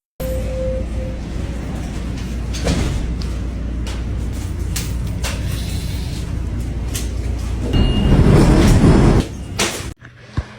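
A Toronto TTC subway train runs on its rails with a steady low rumble and scattered clanks and knocks. The noise grows louder for a moment near the end, then cuts off abruptly, with no talking.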